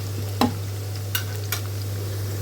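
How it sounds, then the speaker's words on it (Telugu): Ginger pieces fry in oil with a soft, steady sizzle, broken by a few sharp stirring clicks over a constant low hum. "ఫస్ట్ అల్లం ముక్కలు వేయించుకుని త్వరగా వచ్చేటట్టు వేయించుకుని పక్కన పెట్టుకుంది"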